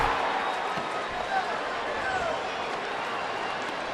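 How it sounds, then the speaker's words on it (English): A baseball stadium crowd roars after a home run at a Diamondbacks–Padres game in San Diego in June 2013, a broad, steady wash of cheering that holds level throughout. "listen to the roar of the crowd"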